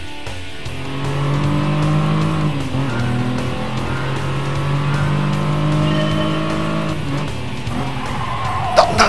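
A Hyundai Genesis in a racing video game, engine droning steadily at high revs with pitch dips as it brakes, tires squealing and skidding, loud and continuous with a sharp knock near the end.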